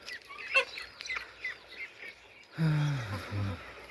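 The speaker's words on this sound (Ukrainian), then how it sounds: "Кури, півники." Chickens cluck and a rooster-like call sounds near the end, with quieter bird chatter and faint voices in the background.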